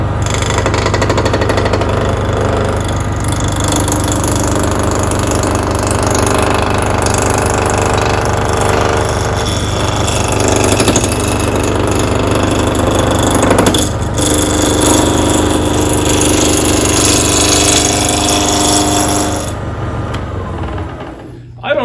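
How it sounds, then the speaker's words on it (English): A wood lathe roars steadily as a gouge roughs out a spinning wooden vase blank, a constant grinding hum with chattering cuts, close and loud throughout. "I could hear the pitch of the wood beginning to change as it started to cut into this"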